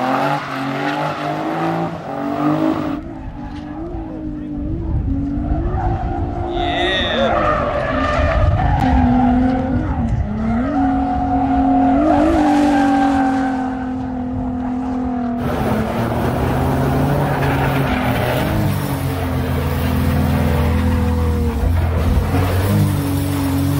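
A Nissan 300ZX Z32 drifting with loud screeching tire skids and a revving engine, sustained and close, with voices faintly underneath.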